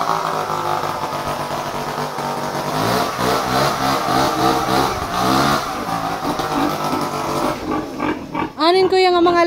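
Piglets and pigs in their pen on a farm squeal and grunt repeatedly in loud, close, overlapping bursts, with a sharp, high squeal near the end.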